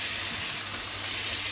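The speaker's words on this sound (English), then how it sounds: "So now the chicken is into the frying pan for us" Chicken pieces fry in a hot pan for a Thai green curry, giving off a steady, bright sizzle and hiss that stays constant and close throughout.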